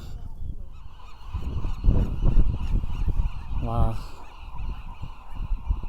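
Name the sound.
birds honking on Alcatraz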